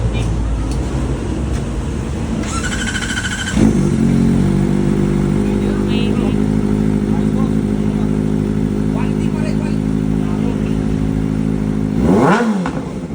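A big bike motorcycle engine idles, then revs up hard and holds a loud, steady growl close by, with a brief higher rev near the end.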